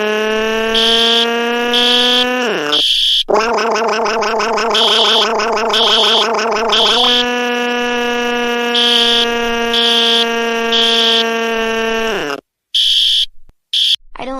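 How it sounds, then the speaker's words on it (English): A fire alarm blares loudly during a fire drill, a sustained buzzing electronic tone that briefly shifts to a faster warbling pattern before returning, then cuts off into short intermittent bursts near the end. "Please, the fire alarm is very noisy."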